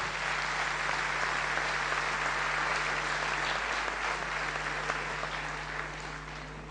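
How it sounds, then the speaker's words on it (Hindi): Steady applause from a large audience fills the room, sustained and even, slowly fading toward the end over a low hum. "अगर ये अपेक्षाएं आपकी पूरी हुई है तो सबसे ज्यादा तालियां अरविंद मेहता साहब के लिए।"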